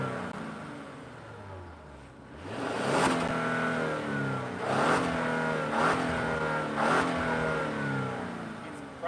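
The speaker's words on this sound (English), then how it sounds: "It's probably mostly engine noise." A 2021 Genesis G80 3.5T engine runs steadily, its pitch rising and falling with several revving surges, close and prominent throughout.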